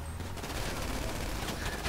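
Rapid, dense gunfire bursts crackle during a GTA Online prison break heist, fairly quiet and muffled, running continuously across the short moment.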